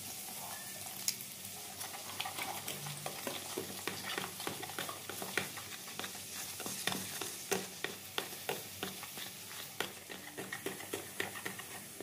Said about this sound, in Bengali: এবার অল্প অল্প করে জল দিয়ে আমি বেসনের ব্যাটারটা তৈরি করে নেব।